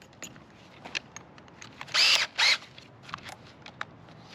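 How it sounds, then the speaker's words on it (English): Two short bursts of a high-pitched power drill whirring as it drills a hole in a kayak, close by, separated by a brief pause, with faint clicks and handling noise around them. "the first time you drill a hole in your kayak"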